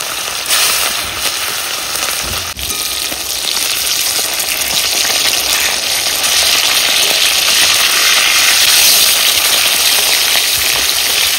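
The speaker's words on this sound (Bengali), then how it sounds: "মাছগুলো লাল লাল করে ভেজে নিয়েছি" Big rohu fish pieces rubbed with turmeric and salt fry in hot oil in a wok, making a loud, dense, continuous sizzle that holds steady and close throughout.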